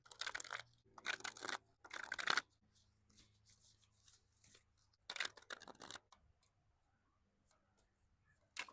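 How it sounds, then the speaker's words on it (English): A tarot card deck is shuffled close up in quick bursts of papery riffling, three short rounds in a row, a pause with faint ticks, then another burst, quiet and intimate with no talking. "Let us shuffle your deck"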